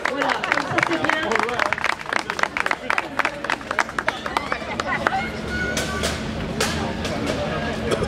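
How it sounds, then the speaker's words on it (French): Audience applause and clapping at the opening celebration of a Charleroi world-village festival, a dense crowd of claps with babble mixed in, dense at first and then thinning and settling over the last few seconds. "vous pouvez les applaudir"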